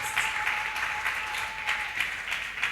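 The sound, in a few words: audience applause in a church service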